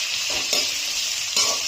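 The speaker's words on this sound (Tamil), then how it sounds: "வெங்காயம் கருவேப்பிலை அதையுமே சேர்த்து நல்லா வதக்குங்க" Onions and curry leaves sizzling and being stirred in hot oil in a pan for dal fry, a steady close hiss with a couple of brief scraping stirs, no voices.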